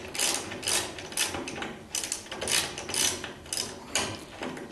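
Ratchet wrench clicking as it tightens the sway bar bolts on a 1976 Corvette restomod, with rapid bursts of close ratchet clicks separated by brief pauses and no talking.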